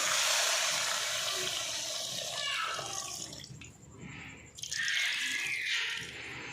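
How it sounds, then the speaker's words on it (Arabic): Water is poured into a pot of stuffed vegetables (stuffed chard leaves, peppers and eggplant) set on the stove, a close, steady splashing pour that fades midway and then resumes strongly. "هنا راح أضيف مي"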